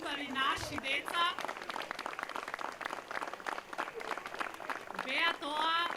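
An audience applauds a children's folk dance group from the Jane Sandanski cultural society of Novoselo, clapping rising and falling with bursts of cheering and voices mixed in, fairly quiet overall.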